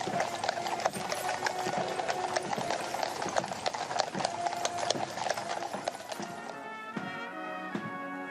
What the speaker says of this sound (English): the music of the horses' hooves